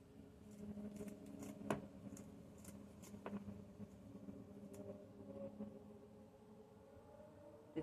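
Repeated faint snips of cheap scissors cutting through small thyme stems, irregular and close, over a steady low hum.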